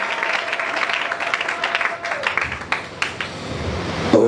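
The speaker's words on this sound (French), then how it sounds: "Acclame très fort pour le Seigneur." A church congregation claps and cheers loudly for the Lord, a dense, sustained wash of applause that fills the room and fades slightly near the end as a voice comes in.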